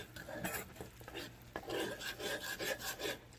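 Lo mein noodles are stirred in a pan with brown sugar, giving close, continuous scraping and rubbing sounds with a faint sizzle underneath and no talking.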